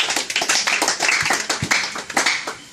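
A church congregation claps hands during a Sunday prophetic and deliverance service, with dense, irregular overlapping claps rippling steadily through the room for a few seconds and no talk over them.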